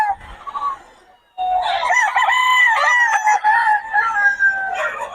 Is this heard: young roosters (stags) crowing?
yes